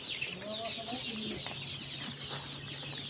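Kadaknath chickens clucking inside a poultry farm shed, several close, busy clucks and short calls rising over a steady background hiss of the room.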